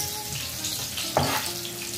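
Garlic sizzles steadily in a hot pan as it is sautéed for monggo, with a brief louder stir or crackle partway through.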